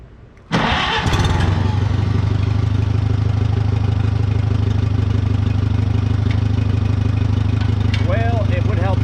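A Farmall tractor engine fires up with a sharp start and settles into a loud, steady, close idle as it warms, a low throbbing rumble that holds without a break, with a brief voice near the end.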